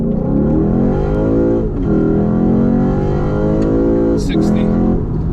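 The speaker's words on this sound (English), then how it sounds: "he's gonna do a bit of a launch" A 2008 Lexus IS F (USE20) doing a launch from a stop on a private road, its engine roaring loud and close as it pulls hard through the revs with a brief dip at a gear change, while people talk over it.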